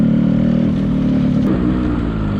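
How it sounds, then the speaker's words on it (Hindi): A Yamaha RX135 motorcycle engine runs loud and steady close by, a continuous throaty drone with a slight rough clatter that holds at an even level throughout. "ये 100 से ज़्यादा थोड़ा सा लाउड बाइक है"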